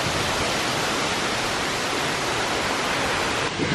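Roaring waterfall heard up close, a dense, steady wash of falling water that fills the whole clip loudly and evenly, with no voices over it.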